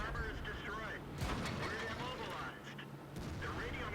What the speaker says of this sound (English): Look at the rate of fire of the shots that are coming up my way.